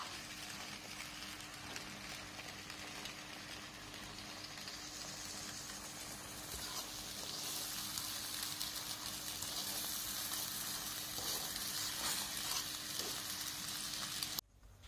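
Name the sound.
ramen seasoning cooking in a pan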